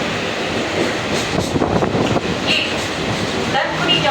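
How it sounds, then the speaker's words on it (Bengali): A train rolls into Dankuni junction station with a loud, continuous rumble and rattling of wagons close by, wheel clatter and faint squeals rising toward the end, and a voice partly audible beneath. "আমাদের ট্রেন ঢুকছে"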